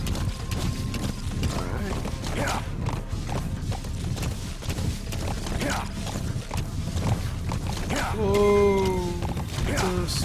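Rhythmic clip-clop of hooves in Metal Gear Solid V: The Phantom Pain runs steadily under a dense background, followed by a short horse whinny near the end.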